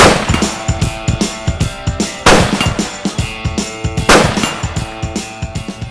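Rifle shots from a rifle fitted with a Zeiss Conquest V4 1-4x24 scope ring out at an outdoor range during zeroing. Sharp, loud reports come in a steady string, with two heavier blasts standing out among the quicker cracks.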